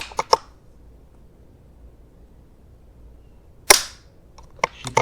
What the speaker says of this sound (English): I might just do 2 shots.